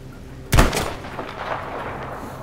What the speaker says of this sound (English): Only took 12 shots.